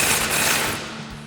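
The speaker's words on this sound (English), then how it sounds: "grab our 21mm socket with a swivel on our impact and pop off the 2 bolts holding our bracket and caliper in place" An impact wrench with a 21mm socket on a swivel loosens a caliper bracket bolt on a 2002-2018 RAM 1500, giving a loud, continuous rapid hammering burst up close that fades slightly toward the end.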